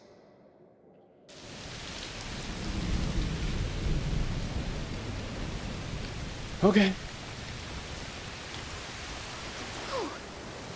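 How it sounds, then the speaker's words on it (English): Heavy rain pours steadily in a stormy game scene near a fisherman's village, a dense hiss that starts abruptly and holds, with a brief thunder crack midway and a short spoken word. "Oh, it's raining a lot."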